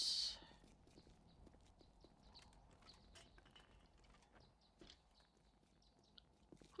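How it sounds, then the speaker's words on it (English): Footsteps in the zombie survival game 7 Days to Die: faint, irregular thudding steps somewhere nearby, quiet and muffled, following a brief loud burst at the very start. "I hear footsteps. I hear"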